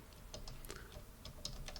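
Soft clicks of a computer keyboard tapped during gameplay, a loose sequence of light keystrokes at irregular intervals, faint and close against quiet background hum.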